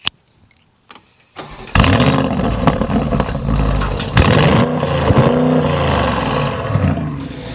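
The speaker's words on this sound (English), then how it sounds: "Speaking of amazing quad exhausts, here's how they sound." A powerful Audi SQ7 SUV engine starts with a jingle of keys, then revs repeatedly through quad exhausts with a deep, throaty roar against a soft limiter, loud and close.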